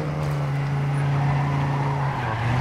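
A car drifting in the racing video game TrackMania 2 Canyon, a steady loud engine drone with a sustained tire squeal running throughout, no voices over it.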